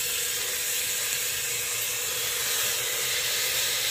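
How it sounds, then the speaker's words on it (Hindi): Soaked chana dal being fried with spices in a pan makes a loud, unbroken hiss and sizzle that stays even from start to finish. "और इसे हम 2 मिनट के लिए भून लेंगे, ज़्यादा नहीं भूनना है।"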